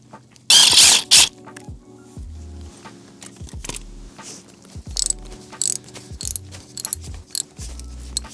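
A ratchet clicks in quick bursts while bolts are tightened on a Yamaha R3 motorcycle lever mount, with close, loud metallic ratcheting and scattered tool taps.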